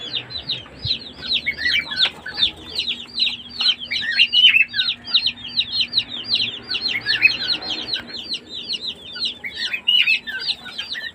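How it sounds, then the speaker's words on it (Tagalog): Many young chicks, about 45 days old, chirp continuously inside a warm brooder, a dense overlapping chorus of bright peeps and tweets. It is steady and fairly close, with a faint hum underneath. "safe na safe ang ating alagang sisiw"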